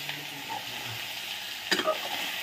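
Small fish frying in a pan, a steady broadband sizzle with soft scraping stirs and a brief louder clatter partway through, close and continuous with no talking.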